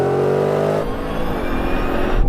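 A car launches hard in a race from a held brake. A loud, close tonal whine gives way to a rushing, roaring surge of acceleration that continues steadily to the end.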